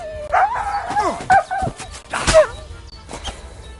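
A dog in Kingdom Come Deliverance 2 gives a run of close, high yelps and whining barks in uneven bursts, with no talk over it.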